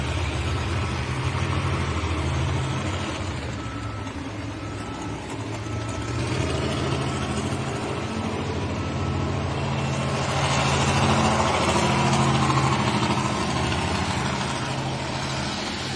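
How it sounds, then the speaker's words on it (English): A T55 turbine engine on a tractor at a pulling event gives a steady, fairly faint mid-level whine and rumble that swells somewhat louder toward the end, heard from a distance without any talk. "he will light that T55 turbine up here"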